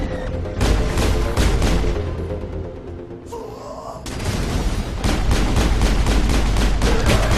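Loud, sustained gunfire from a weapon in the video game Mass Effect, dense rapid bursts filling most of the clip with a brief lull near the middle before the shooting resumes.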